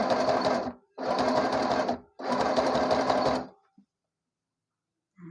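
A sewing machine stitches a narrowly folded fabric hem in three steady whirring runs of about a second each, separated by brief pauses, then falls silent apart from a faint click or two.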